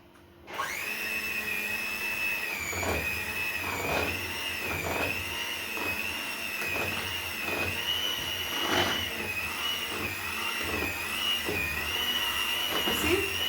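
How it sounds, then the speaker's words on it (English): An electric hand mixer whirs steadily through muffin batter, starting abruptly and holding a high, slightly wavering motor whine with occasional knocks against the bowl, close and loud. "So this electrical mixer, it helps you to mix."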